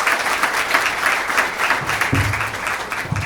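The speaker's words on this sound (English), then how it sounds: "Let's give them a round of applause." A room of guests at a charity breakfast event gives a round of applause for a sponsor, brisk steady clapping heard close and fairly loud, with a few low thumps mixed in and no speech over it.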